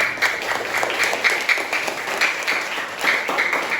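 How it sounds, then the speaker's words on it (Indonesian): Students in a classroom history lesson applaud together, a lively, close clatter of many hands with recurring surges, continuing steadily for a few seconds without speech. "Oke, tepuk tangan semuanya."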